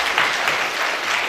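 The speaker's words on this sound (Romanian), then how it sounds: "Toți elevi ai școlii noastre, aplaudați-l." Schoolchildren at a school awards ceremony clap together in a dense, even burst of applause, loud and sustained from start to finish.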